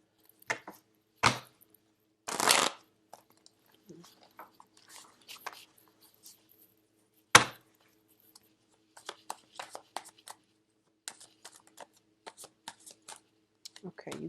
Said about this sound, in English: I'm going to pull out 5 cards.